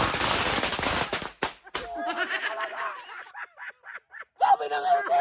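Firecrackers go off in a rapid crackling burst at the start, followed by a few sharp isolated bangs and scattered pops, with people talking and shouting over the later part.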